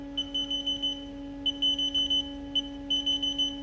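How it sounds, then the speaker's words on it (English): Repeated electronic beeps from the control panel of a Haas CNC machine, steady tones sounding in short bursts with brief pauses, clear and close over a constant hum. "As you can hear the beeping, now it's ready."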